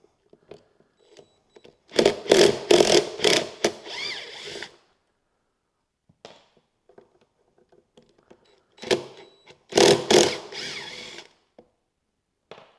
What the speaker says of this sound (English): To completely remove this handle, I'm going to use a T30 Torx bit.